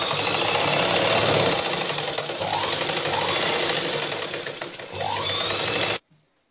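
A sewing machine runs steadily and loudly, stitching the belt piece of a blouse in one continuous whirring run that cuts off abruptly at the end.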